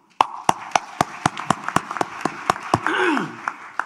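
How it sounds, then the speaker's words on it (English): Sharp, evenly spaced claps ring out at the 2017 Yushan Forum in Taiwan, a quick regular beat of applause, briefly joined near the end by a short vocal sound. "Give him an applause"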